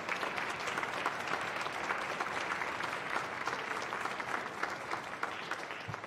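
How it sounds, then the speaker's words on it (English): A concert audience at an honors string orchestra event applauds steadily for about six seconds, a dense, even clapping from a large crowd in a hall. "Let's do a round of applause,"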